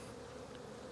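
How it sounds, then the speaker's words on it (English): Honeybees crowd the frames of a strong hive during an early spring inspection, giving a continuous soft, even buzz throughout the short moment, faint and alone. "Lots of bees on them though."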